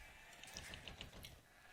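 Sheep bleating in the video game Age of Empires II, a few short, faint bleats repeating over a quiet low background with no speech.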